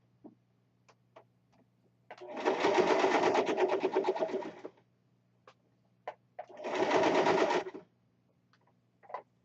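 A sewing machine stitching corset fabric at speed: two steady bursts of rapid mechanical whirring and ticking, each a couple of seconds long, with quiet handling clicks between and around them.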